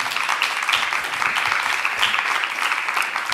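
Audience applause at the close of a question-and-answer session at an event, a steady dense patter of many hands clapping throughout, fairly loud and without talk.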